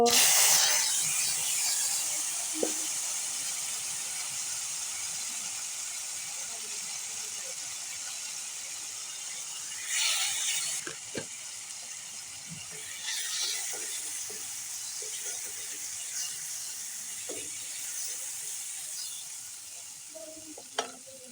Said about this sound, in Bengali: কড়াতে তেল দিলাম শুকনো লঙ্কা দিলাম পাঁচ ফোড়ন দেব দেবো